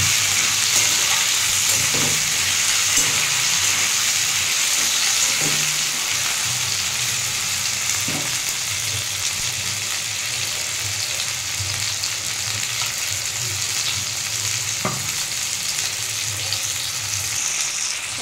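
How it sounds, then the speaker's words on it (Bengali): Potato, pumpkin and tomato pieces fry in a pan for a spinach and malabar spinach chachhari, giving a steady, close sizzle with a few soft stirring knocks and no talk. "এবার এটাকে একটু ভেজে নেব।"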